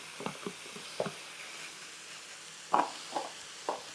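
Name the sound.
meat and garlic sizzling in a pan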